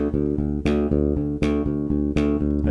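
A bass guitar is plucked using three-finger picking, with sustained repeated low notes and a strong accented attack about every three-quarters of a second, played solo.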